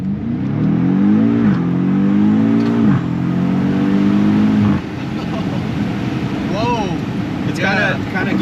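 A 2022 BMW M5 Competition accelerating hard from inside the cabin, its engine note climbing through rapid upshifts with sharp drops at each change, loud and close, then settling into road roar as brief voices speak.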